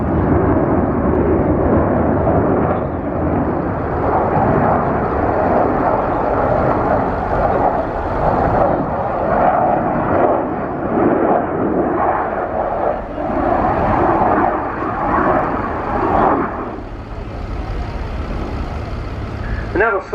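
An F-16 fighter jet performs an airshow display at the Royal International Air Tattoo, a broad, steady jet roar that swells and fades as it repositions, with a commentator talking over it.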